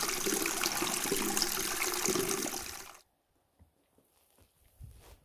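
Water pours steadily for about three seconds on a farm where chickens and rabbits are kept, then stops abruptly, leaving quiet with a few faint knocks and footsteps.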